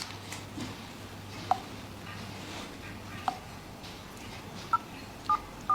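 A phone keypad gives a few short, faint dialing beeps, spaced unevenly at first and then in a quicker cluster, with low room noise and a soft background hum.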